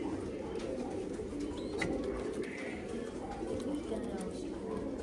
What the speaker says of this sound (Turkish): Bugün muazzam, çok güzel kuşlarımız var.